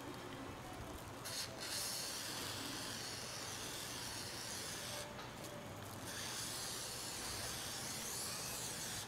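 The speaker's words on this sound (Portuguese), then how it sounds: "Eu vou passar aqui com o spray e bora ver como é que ele vai ficando." Oil sprayed from an applicator onto an aftermarket Inflow air filter for a Renault Duster gives a faint, steady hiss with a few slightly stronger bursts, with no talk over it.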